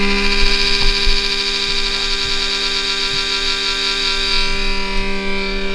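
A Hamron 12-volt car battery charger set to a 10-ampere charge rate hums steadily and loudly up close, a constant electrical drone with faint clicks and no speech.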